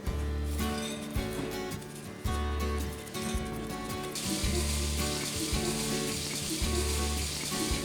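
Seasoned green beans frying in a pan on a stovetop, a loud, steady close-up sizzle with crackling spits and occasional bursts of stirring, no voices.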